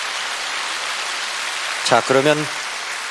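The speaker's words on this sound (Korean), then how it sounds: "이분을 위해서 여러분 격려의 박수를 한번 크게 보내주시면 대단히 고맙겠습니다." An audience at a Korean television song show applauds in a dense, even patter that continues throughout, and someone speaks briefly over it near the end.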